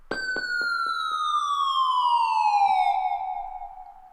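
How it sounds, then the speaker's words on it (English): Synthesized shooting star or comet effect: a bright whistling tone that starts high and glides slowly downward over about four seconds, with a few quick clicks at the onset, then fades out. "I call it like a shooting star or comet effect"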